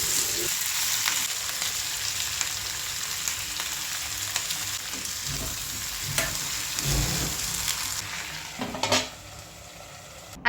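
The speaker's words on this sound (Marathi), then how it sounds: "छान टमॅटो सॉफ्ट होईपर्यंत आहे चांगलं परतवून घ्यायचं आहे." Tomatoes sautéing in a pan for tomato pachadi, a continuous soft sizzle with occasional spoon stirs and scrapes against the pan, growing into a few louder clatters near the end.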